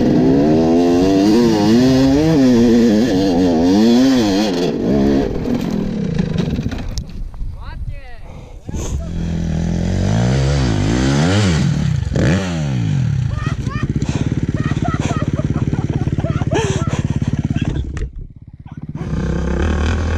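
A motorcycle engine revs loudly in repeated rising and falling sweeps, with voices talking excitedly over the roar.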